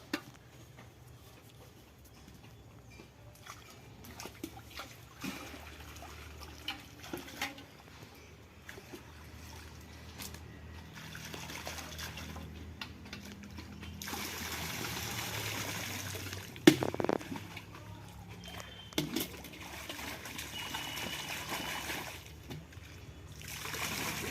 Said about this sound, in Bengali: এবার এগুলো আমি ধুয়ে নেব ভালো করে পরিষ্কার করে।